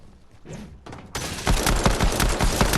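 Pistol gunfire in the video game Fortnite: after a quiet, muffled stretch, a sudden burst of rapid, loud shots begins and continues in a dense, repeated volley to the end.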